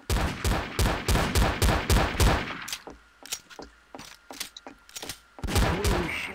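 Rapid bursts of gunfire from Trouble in Terrorist Town, a loud rhythmic string of close shots for about two seconds, then sparser scattered pops, and another close burst at the end.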